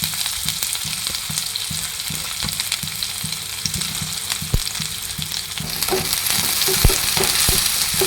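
Onions, green chillies and curry leaves sizzle and fry loudly in a pan, a steady close crackle with occasional stirring scrapes and no talking.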